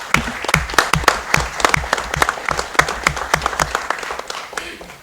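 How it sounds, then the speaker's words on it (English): An audience at a school board of education meeting gives a round of applause, distinct close claps forming an uneven rhythm that thins and softens toward the end. "So a round of applause to them."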